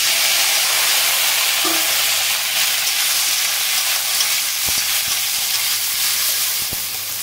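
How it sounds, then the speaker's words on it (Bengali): Okra, eggplant and other vegetables sizzle steadily in hot mustard oil tempered with five-spice and dried red chillies, a broad continuous frying hiss with a few sharp clinks of a utensil against the pan near the end. "এবার আমি আনাজগুলো দিয়ে দেবো"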